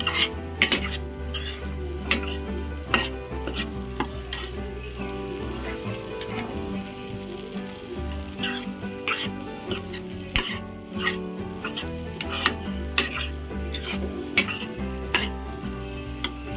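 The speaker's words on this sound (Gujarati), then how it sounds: "આપણે એને આવી રીતના હલાવી લેવાનું છે" A thick sukhdi mixture is stirred steadily in a hot pan for the whole stretch, with repeated spoon scrapes and clinks against the metal over a soft continuous sizzle.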